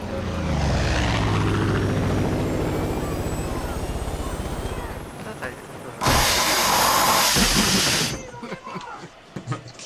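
A helicopter in the video game Far Cry 5 thrums with a steady rotor chop under people talking, then a loud burst of roaring noise takes over briefly before fading to quieter clatter.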